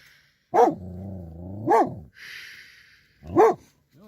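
A dog gives three loud barks spaced out, with a low growl between the first two and a faint high whine after.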